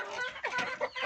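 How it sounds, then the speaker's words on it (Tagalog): Backyard chickens in a rural province cluck repeatedly at close range, a busy stream of short clucks with no talking. "ito na yung mga manok ko."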